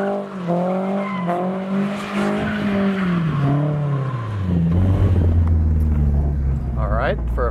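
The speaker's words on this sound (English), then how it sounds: "Steering wheel fully cranked to the right. Give it full power, drop the clutch." A car drifts through a right-hand turn: a loud, sustained tire squeal wavers and slides downward over the engine's rumble as it accelerates under full power, ending in a burst of rapid chirps.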